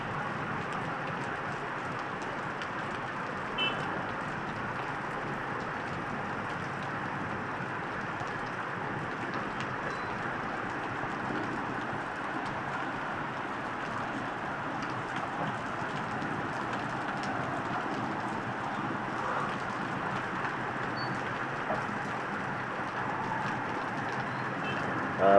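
Steady rain hisses without a break during a jeep ride through traffic in General Santos. A constant wash of noise holds for the whole stretch.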